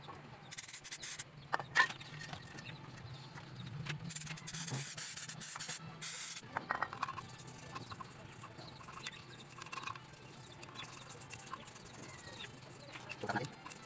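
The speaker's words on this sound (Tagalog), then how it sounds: "So, spray na natin ng brake cleaner." Brake cleaner sprayed onto the rear brake of a Honda Click scooter during a shoe cleaning job, heard as several loud hissing bursts over the first six seconds, followed by quieter handling sounds.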